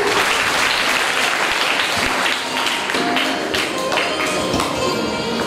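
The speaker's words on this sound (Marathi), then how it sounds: "सगळे टाळ्या वाजवा त्याच्यासाठी." Children clap together during a storytelling session, a steady, dense burst of applause with sharp individual claps that carries on for several seconds without a break.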